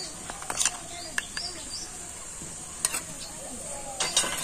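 A spoon stirs kachori pea filling mixed with roasted gram flour in a pan, making faint scattered scrapes and soft taps with a few sharper clicks, quiet and close, with no talk.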